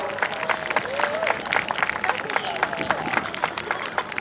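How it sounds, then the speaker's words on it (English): A crowd at the Southport Air Show applauds a display pilot, a continuous spread of outdoor clapping with a few sharper individual claps, while an announcer talks over a loudspeaker. "Let's get a massive round of applause."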